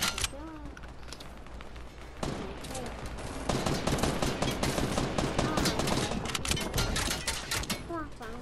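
Rapid gunfire from a food fight video game crackles in dense bursts throughout, growing heavier after the first couple of seconds, with players talking over the shooting.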